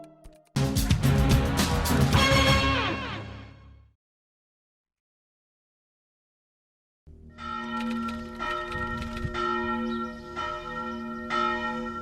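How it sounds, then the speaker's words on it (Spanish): Church bells tolling in mourning ring loudly in a dense, overlapping peal, break off into silence, then resume with sustained resonant clanging. "Las campanas comenzaron a sonar en luto por cada víctima."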